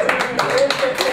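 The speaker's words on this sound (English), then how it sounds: "I wasn't expecting applause" Audience applause at a comedy club in Denver, a short burst of scattered clapping with some cheering mixed in, steady and moderately loud across the whole moment.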